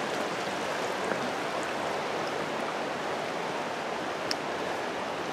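Rainier Creek in Mt. Rainier National Park flows beneath a log. The rushing water makes a steady, dense noise that fills the clip and stays even throughout, with no voices.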